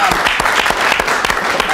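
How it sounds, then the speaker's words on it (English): A round of applause from a studio or live audience, dense and steady clapping at close range for just under two seconds. "Can we have a round of applause for Katie, please?"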